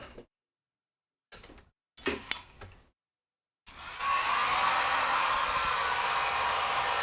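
A few short clicks and rustles, then a hair dryer switches on and blows with a loud, steady whoosh that continues to the end.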